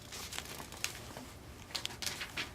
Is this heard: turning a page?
yes